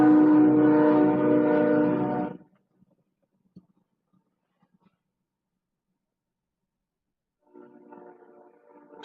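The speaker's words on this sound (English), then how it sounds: "sorry about the train" A train passes loudly for about two seconds with a low rumbling roar, then fades out, leaving near silence before distant rail noise returns at the end.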